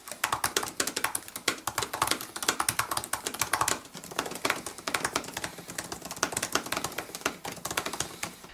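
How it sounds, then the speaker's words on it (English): Rapid typing on the keyboard of a 2018 Apple MacBook Pro, a dense, continuous stream of crisp, close key clicks with no voices. "But this also changes the clicking tone of the keys."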